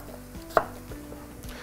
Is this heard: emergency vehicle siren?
no